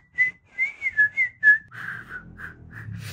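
A person whistles the Turkish folk song Erik Dalı, a lively tune in short rising and falling phrases, close and clear, with the later notes softer over low background noise.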